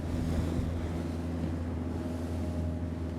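The NY 24 motor boat runs under power, its engine giving a steady low drone and hum while wind and water rush over the microphone without a break.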